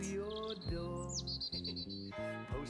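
Cartoon birds chirp and tweet in short bright bursts over a steady musical backing in the Postman Pat children's animation, the calls fairly faint and repeated in a quick series.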